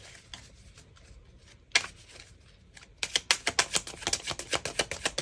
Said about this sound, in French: Hop, on va aller prendre 9 cartes s'il vous plaît.